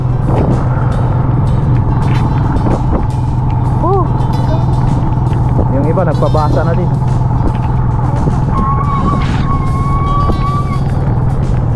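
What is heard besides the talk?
noisy vehicle brakes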